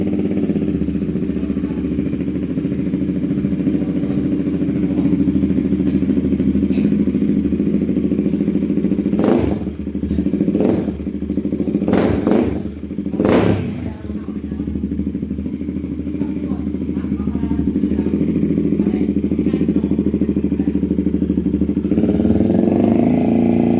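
A Royal Enfield Guerilla 450 fitted with an aftermarket exhaust idles loud and close with a steady, deep thrum, broken midway by a few short, sharp throttle blips before it settles back to a constant idle.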